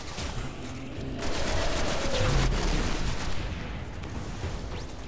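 Rapid gunfire shoots at gates in the video game Destiny, with a dense burst of fusillade shots over a continuous game background rumble.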